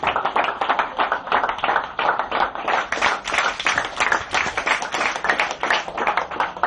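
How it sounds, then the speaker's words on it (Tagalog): A church congregation claps loudly and steadily at a Filipino worship service, a dense continuous wash of many hands with no pause. "Palakpak, palakpak na malakas."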